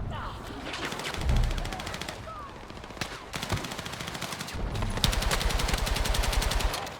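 Gunfire from a battle in the video game Battlefield 6: dense, continuous automatic weapon bursts with rapid rattling shots, loud and close, with a voice speaking briefly over the shooting.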